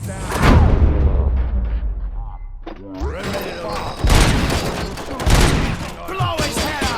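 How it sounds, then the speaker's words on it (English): Gunfire in the video game RoboCop: Rogue City, heavy booming shots and bursts up close, mixed with shouting voices and dialogue throughout. "Am I hearing gunshots?"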